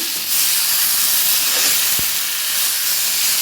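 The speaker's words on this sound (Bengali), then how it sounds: "তো দেখো মশলাগুলো কষে আলুগুলো দিয়ে দিয়েছি আলুটা একটু নাড়াচাড়া করে নিচ্ছি" Potatoes frying in a pan with spices and dried and fresh green chilies give off a loud, steady sizzle, broken once by a sharp knock from a utensil as they are stirred.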